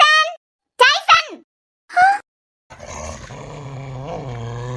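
Tyson, a dog, gives a few short vocal bursts after a high child-like voice, then a low rumbling growl runs on under background music.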